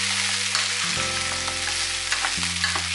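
Pork pieces stir-fry in a hot pan for Chinese sweet and sour pork, giving a steady close sizzle with scraping stirs, while music plays underneath.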